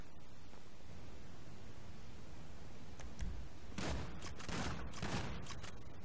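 Gunfire crackles during a shootout at a slaughterhouse in GTA V Online, starting as a few faint distant shots and then breaking into a denser burst of loud cracks over steady background noise.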